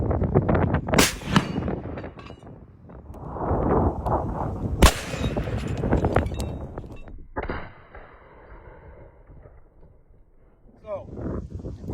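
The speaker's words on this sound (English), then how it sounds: "We're going to see if a Rothfuss round will go through it. We're about to do it with the McMillan TAC 50." A McMillan TAC 50 rifle fires a heavy round at a 1-inch steel plate made of two welded plates, giving sharp, loud, close blasts with metallic ringing impacts and some wind noise, while people talk.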